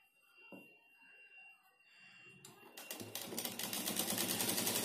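Sewing machine stitching the waistband of a kali lehenga, starting with quiet handling sounds and then breaking into a fast, steady mechanical whirr and clatter that grows louder to the end.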